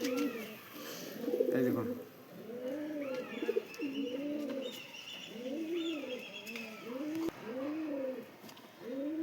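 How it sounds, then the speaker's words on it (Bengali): Active pet pigeons coo in repeated rolling, throaty phrases, close and steady, while someone speaks briefly over them. "এই দুটো পায়রাই অ্যাক্টিভ পায়রা আছে"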